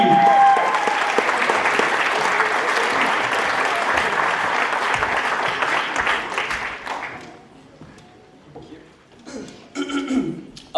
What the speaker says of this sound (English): Give a round of applause to Adam Finney!